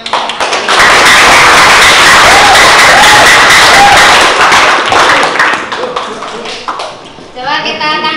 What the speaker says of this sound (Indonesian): coba kita untuk biar semangat kasih aplaus untuk yang